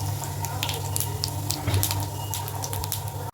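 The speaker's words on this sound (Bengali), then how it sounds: "তেলটা আমার গরম হয়ে গেছে, এর মধ্যে আমি এবার তেজপাতাটা দিলাম আর অল্প জিরে ফোড়ন দিচ্ছি" Bay leaf and cumin seeds dropped into hot oil for a tempering, a close continuous sizzle with crackling pops and spatters, without talk.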